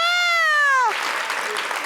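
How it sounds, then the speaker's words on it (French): Studio audience applause on a French television talk show breaks out after a high, falling wail-like tone and continues as a dense, steady patter for about a second. "Applaudissez, s'il vous plaît."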